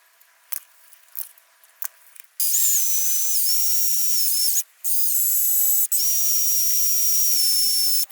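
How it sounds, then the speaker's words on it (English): A handheld drill fitted with a polishing pad spins against a chrome wheel with polish, giving a loud, steady high-pitched whine that runs for several seconds, dips briefly, then resumes, after a few light taps and clicks. "I got my drill attachment right here, right there, with the polishing pad"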